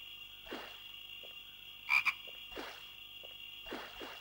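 Frog croaks in the PS1 game Gold and Glory: The Road to El Dorado, a series of short croaks repeating at irregular intervals over a steady game ambience with a high tonal hum, one louder double croak near the middle.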